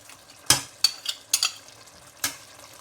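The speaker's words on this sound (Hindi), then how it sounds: "इन सब को मिक्स करके भून लेंगे" A yogurt and spice mix being stirred and fried for chicken biryani: four or five sharp scraping strokes of a spoon in the pan, spaced irregularly over a faint sizzle, with no talking.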